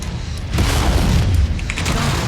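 An enemy mech is destroyed in the Mechwarrior 5: Mercenaries video game, a loud booming blast with rumbling crackle that swells after half a second and holds for about a second before easing off.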